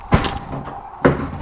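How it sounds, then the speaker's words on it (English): A door in a house swings and shuts with two distinct knocks, a sharp thud near the start and another about a second later, close by in a quiet room. "Door."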